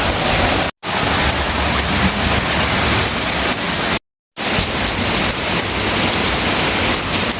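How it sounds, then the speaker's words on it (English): Steady rain falling outdoors on a summer day, a loud dense hiss of drops hitting surfaces nearby, continuous apart from two brief cuts to silence. "Told you it was raining."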